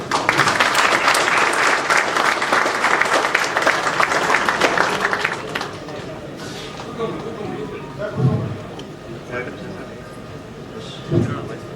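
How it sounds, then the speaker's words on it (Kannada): Loud audience applause at a Kannada film event fills the first half, then fades into murmuring crowd noise with scattered claps and brief voices. "ನೀವು ದೊಡ್ಡ ಚಪ್ಪಾಳೆ ಕೊಡೋದು"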